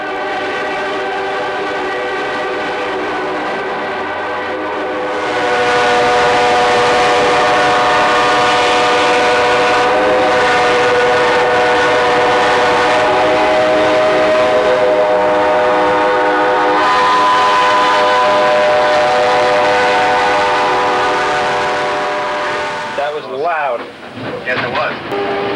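Several train horns blare together for a late-afternoon departure from Hoboken, with a 1946 Lackawanna steam locomotive nearby. The sustained, loud chord of horns swells and overlaps for most of the stretch, then cuts off abruptly near the end.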